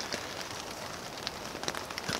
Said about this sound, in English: It's pouring rain outside. You can hear it, hopefully, on this microphone.